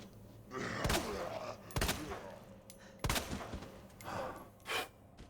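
Gunshots in the survival horror game Resident Evil 2, four spaced, sharp shots with echoing tails over a low game ambience.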